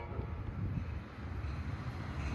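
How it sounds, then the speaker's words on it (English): Amtrak San Joaquin passenger train 710, southbound for Bakersfield, rumbling past in a steady, loud low roar through a hometown downtown, with no break in the sound. "here comes San Joaquin train. 710, your southbound destination of this train is Bakersfield"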